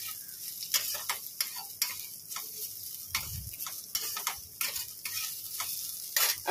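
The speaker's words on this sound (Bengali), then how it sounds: "দেখো নিম পাতার আলু ভাজছি" Potatoes fry with neem leaves in hot oil, giving a steady sizzle with repeated sharp ticks and scrapes from stirring, close and fairly quiet with no talk.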